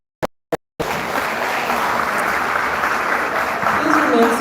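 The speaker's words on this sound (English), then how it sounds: "Let's give a round of applause again for all our" After two sharp isolated claps, a full audience bursts into steady, loud applause at a secondary school awards ceremony, sustained and swelling slightly toward the end.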